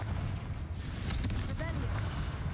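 Blasting fire spell in Hogwarts Legacy, an explosive boom with crackle sitting inside a constant loud low rumble of game sound, with a voice speaking over it.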